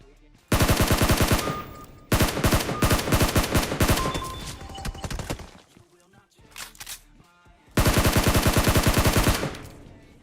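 Automatic weapons fire in the mobile battle-royale game PUBG Mobile, with loud, close bursts of rapid shots separated by short pauses and scattered quieter clicks.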